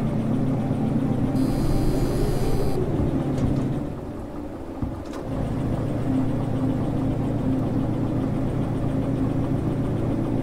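A train locomotive pulls away in Derail Valley, its steady low engine drone and harmonic hum holding near and loud, dipping briefly midway with a clunk before settling back to a constant rumble.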